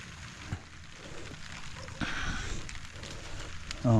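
Steady rain falls outdoors in Mindanao, a soft continuous hiss of drops with a few louder patters, growing slightly heavier midway, with a brief knock near the end.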